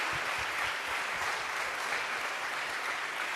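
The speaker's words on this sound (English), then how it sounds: "a big applause for everybody who is here for their first time" A conference audience claps steadily for a few seconds, a dense, even wash of applause from a large crowd with no talking over it.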